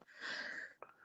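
A single sneeze during a podcast-style radio show: a sharp inhaled build-up leading to a short burst, then a brief snort-like tail, near and fairly quiet with no talk over it.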